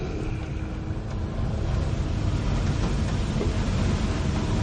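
A car engine runs at a steady cruising speed with a constant low rumble and road drone, fairly close and even throughout, no talking.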